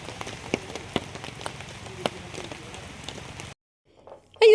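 Steady rain patters on surfaces at a campsite, a dense close hiss with scattered heavier drops, cutting abruptly to near silence before a brief loud burst at the end.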